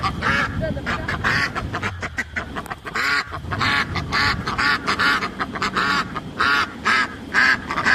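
A flock of ducks quacking and honking loudly and continuously at feeding time in a park in Tirupati, many birds calling over one another at close range.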